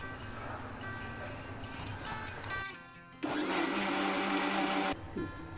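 A mixer grinder blends green chutney with a few spoonfuls of curd for dosa, its loud steady whir running in bursts with a brief pause partway, then a stronger spell before it stops.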